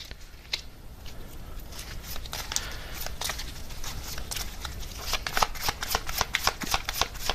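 Tarot cards are shuffled and dealt out in a quiet room, a steady run of crisp riffling taps and slaps that grows busier and louder toward the end, with no voices over it.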